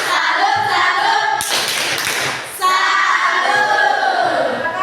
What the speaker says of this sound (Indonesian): kita beri tepuk tangan dulu untuk kelompok 1 dan kelompok 2